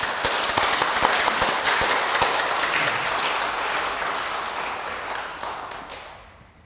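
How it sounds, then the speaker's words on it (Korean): A church congregation at a seventh-anniversary memorial Mass for the Sewol ferry disaster bursts into sustained, dense applause that gradually fades away. "뜨거운 감사와 다짐의 박수를 부탁드립니다"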